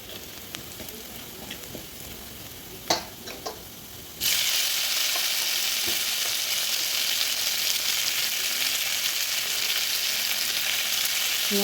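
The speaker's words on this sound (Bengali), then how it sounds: "পেঁয়াজ আর টমেটোটা একদম নরম করে নেব।" Onion and tomato fry in oil in a pan until soft. A quieter sizzle with a few clinks gives way, about four seconds in, to a sudden loud, steady hiss of frying that holds to the end.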